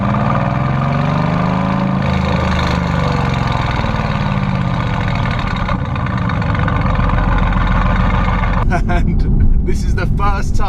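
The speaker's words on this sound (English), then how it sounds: "I could just press the sports exhaust button, and now I'm in comfort mode and cruising, but the valves are open." Car engine with its sports exhaust valves open, cruising in comfort mode with a steady, continuous drone and low rumble at close range, ending in a few brief sharper sounds.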